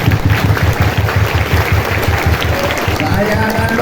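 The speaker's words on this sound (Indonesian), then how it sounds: "Kita tepuk sekeras-kerasnya untuk alma mater kita tercinta." Loud, rhythmic audience clapping at a Ramadan religious gathering in Indonesia, with fast regular claps in unison filling the room and voices audible underneath.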